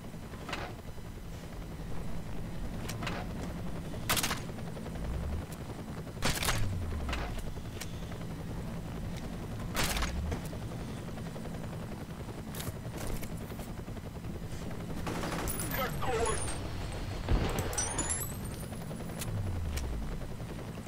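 Gunfire from the first-person shooter F.E.A.R. Extraction Point: repeated sharp shots in irregular bursts over a steady low mechanical drone, with sweeping whooshing effects and a heavy blast near the end, no voices.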